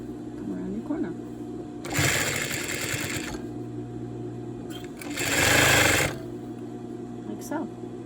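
A sewing machine stitches throw pillow fabric and turns a corner in two short, loud bursts of rapid stitching. A voice talks over the quieter hum between them.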